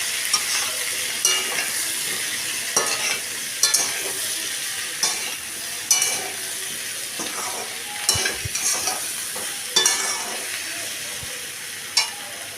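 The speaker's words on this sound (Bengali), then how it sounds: "সামান্য ধনে, সামান্য একটু জিরে গুঁড়ো মশলাগুলো দিয়ে আমি ভালো করে একটু নাড়াচাড়া করে নেব।" A utensil stirs coriander and cumin powder in a sizzling frying pan with pumpkin and potato. Regular scraping strokes land every second or so over a constant close frying hiss, and no one speaks.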